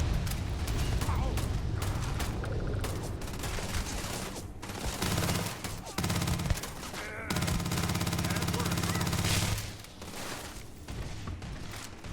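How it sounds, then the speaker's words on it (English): A weapon reload in the Starfield video game on very hard mode: mechanical clicks of a fresh magazine seating amid dense, loud bursts of gunfire and combat noise. "Fresh mag in, pushing up top."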